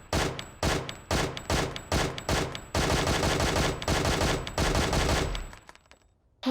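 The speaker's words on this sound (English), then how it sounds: "Yeah, the M16 only has the one shot left." M16 rifle fire in the Jurassic Park Revolution video game: rapid loud bursts of gunshots in quick succession, then a sustained stretch of continuous automatic fire ending abruptly.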